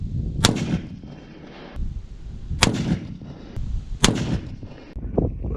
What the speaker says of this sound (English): we'll shoot a few rounds just to test it out as well